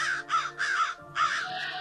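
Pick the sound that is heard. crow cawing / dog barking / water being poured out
crow cawing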